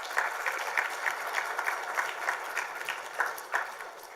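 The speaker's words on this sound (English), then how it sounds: "Let's have a round of applause." A round of applause from the audience at a shareholders' meeting, with moderate, even clapping that continues throughout at middle distance.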